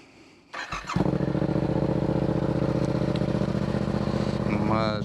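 A Yamaha MT-07 motorcycle with an Akrapovic carbon aftermarket exhaust cold-starts: the engine cranks briefly, catches and roars to life, then settles into a loud, deep, rumbling idle close by.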